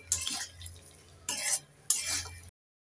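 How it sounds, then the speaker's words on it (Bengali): Fried potato pieces stirred with masala in a pan for a Bengali rui fish curry with aubergine, three short bursts of scraping and clinking with a faint low sizzle between them, close and fairly quiet, no talking. "এবার নেড়ে চেড়ে আলুটাকে মশলার সাথে 1 মিনিট কষে নেব।"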